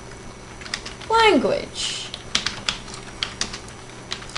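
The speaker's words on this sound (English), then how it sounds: "We're just typing in text here." Keys on a computer keyboard are tapped in short irregular clicks while someone speaks briefly over the start, and the clicking continues steadily and fairly close afterward.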